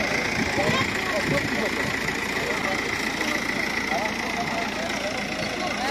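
A steady engine idles with a constant low rumble and a dense mechanical hum throughout, with no pauses.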